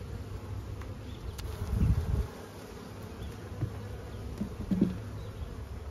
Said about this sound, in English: Either one of these hives is noisy.